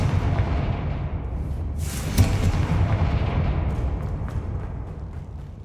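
A Confringo blasting spell bursts in a Harry Potter video game, a loud explosive boom with a sharp crack near two seconds, then a long rumbling decay that fades slowly with no talk over it.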